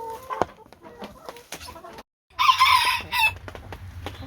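Hens in a chicken winter run cluck close by, with a loud crow-like burst of calls in the middle and quieter clucks before and after.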